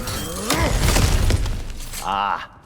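In God of War Ragnarok, cracked ground is smashed through with a loud crunching shatter and heavy debris thuds, followed by a short character voice line.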